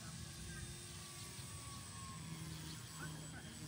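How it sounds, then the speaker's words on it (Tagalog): Electric motor of an RC glider model plane whirring steadily at a distance, a thin continuous hum with voices talking over it outdoors. "Ganda ng tunog ng motor."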